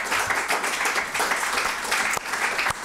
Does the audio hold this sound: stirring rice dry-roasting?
no